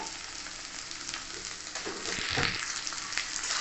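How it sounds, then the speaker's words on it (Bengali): Long-cut potatoes dropped into hot oil with ginger and garlic for a spicy dry yardlong bean and potato curry, giving a steady close sizzle that swells and thickens toward the end as it is stirred; no talking. "এবার কেটে রাখা লম্বা লম্বা করে আলু তাকে দিয়ে দেবো"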